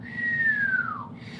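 A person whistles a single sustained note that glides slowly downward and fades, heard alone and fairly close against a low steady background hum.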